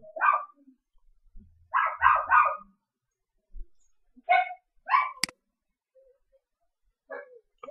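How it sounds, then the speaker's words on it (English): A dog, a female, barking in short bursts of one to three barks separated by pauses, fairly close and loud, in an otherwise quiet room, with one sharp click near the middle. "My dog's barking again."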